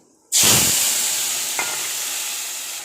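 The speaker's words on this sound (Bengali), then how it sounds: "আর দেখো তেলের মধ্যে দিয়ে দিলাম সামান্য পাঁচ ফড়ন" Panch phoron spices drop into hot oil with a sudden loud burst of sizzling that starts from silence and then slowly fades to a steady hiss, with one small click partway through.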